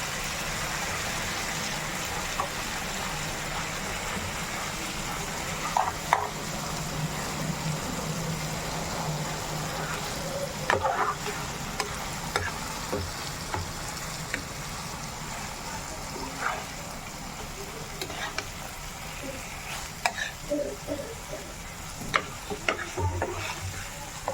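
Fish pieces cooking in a hot pan with tomato sauce for a Bengali fish dish, giving a steady sizzle with scattered clicks and scrapes of stirring throughout.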